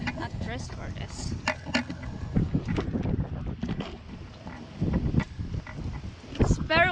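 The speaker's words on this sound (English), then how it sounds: "It's very windy." Gusty wind buffets the microphone in low rumbling bursts while several people talk and laugh nearby outdoors.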